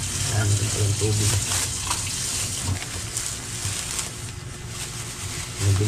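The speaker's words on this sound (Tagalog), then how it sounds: "yan, ito yung tubig." Water pours steadily from a tap into a container in a home kitchen, a continuous broadband rush that stays fairly loud throughout, with people talking over it.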